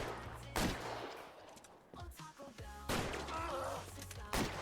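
Several loud gunshots crack out in a street shootout in the 1940s Los Angeles police game L.A. Noire, spaced bursts against a quieter background of thuds and faint voices.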